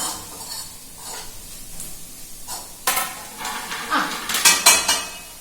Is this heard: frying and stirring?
yes